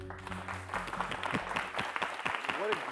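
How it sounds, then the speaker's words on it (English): Audience applause at a debate final, a dense wash of clapping that runs steadily for the whole stretch, with a voice talking over it near the start. "Audience, give them another round of applause."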